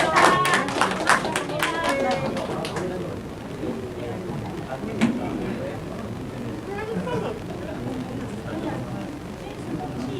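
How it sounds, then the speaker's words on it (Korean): An audience at a Korean political party lecture claps to welcome a speaker: a burst of close, sharp applause at the start that thins out as speech takes over. "박수로 좀 환영해 주십시오."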